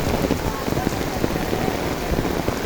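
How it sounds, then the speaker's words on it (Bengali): Monsoon rain falls hard on a village in Cumilla's Burichang area, a continuous close hiss scattered with sharper drop splashes and soft low patters. "আজকে বর্ষার মৌসুমে কত সুন্দর বৃষ্টি হইতেছে"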